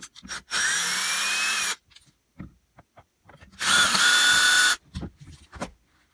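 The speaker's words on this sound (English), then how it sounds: "I'm going to go ahead and use a drill and pull those two out" A power drill whirs in two loud, sustained bursts of about a second each while repairing a Hilti TE24 hammer drill, separated by a pause with small clicks and handling noises.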